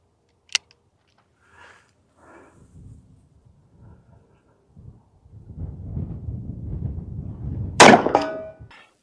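A single loud, sharp gunshot from a Smith & Wesson Model 29 .44 Magnum revolver with a 6-inch barrel, fired outdoors at a target about 75 yards away. The shot lands near the end after quiet rustling and handling noise.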